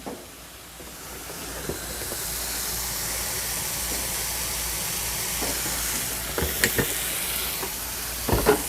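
Olive oil, about a teaspoon, sizzles steadily in a frying pan while steak alla pizzaiola cooks, a continuous bright hiss with a few soft clinks and scrapes near the end.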